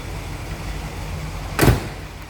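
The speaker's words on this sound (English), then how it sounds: "Door fits nicely, shuts tight" A 1967 Cadillac DeVille convertible's door swung shut, one solid thump near the end over a low steady rumble.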